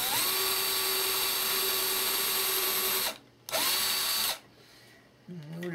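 A power drill bores a hole while building a Big Stick 40, whining steadily and loudly for about three seconds, stopping briefly, then running again before winding down.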